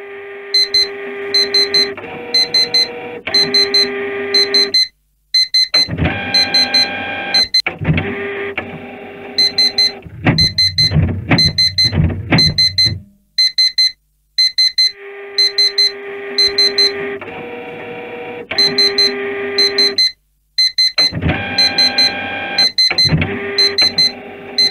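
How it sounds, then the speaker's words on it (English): Electronic beeping from a handheld metal detector during a security bag check, sounding in repeated loud bursts of tones with short gaps between them and no talking. "Now I'm just going to run my metal detector."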